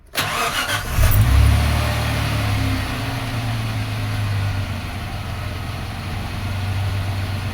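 A 1995 Suzuki Escudo engine cranks briefly and catches, revving loudly before settling into a steady, close idle that hums on with no talk.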